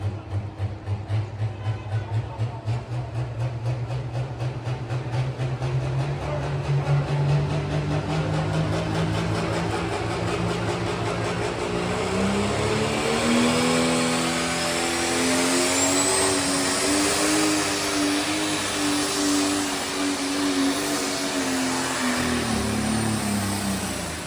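Loud pulling tractor engine at a tractor pull roars continuously at full power around 5,500 RPM, its pitch climbing and wavering under heavy load for a sustained stretch, no voices.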